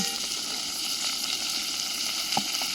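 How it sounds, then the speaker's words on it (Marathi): Tomatoes and onions sautéing in a pan with a steady, even sizzle of frying throughout, plus a couple of soft clinks from stirring near the end; no one speaks. "आता हे टमाटर कांदा सॉटे होईपर्यंत थोडासा आपण हलवून घेऊ"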